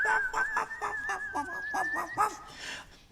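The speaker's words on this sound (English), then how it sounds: "There was a terrible wailing and whistling and barking." A dog barks and yips in quick bursts over a sustained, high whistling tone that wavers like a wail. The spooky storybook sound effect is fairly close and moderately loud, and the whistle fades out near the end.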